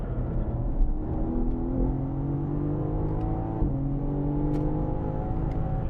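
BMW M car engine accelerating hard on Sonoma Raceway, a loud steady climbing roar with a brief dip at a gear change before it builds again.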